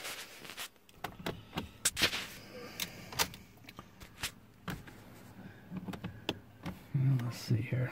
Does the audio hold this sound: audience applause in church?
no